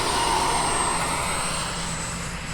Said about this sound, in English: Short takeoff.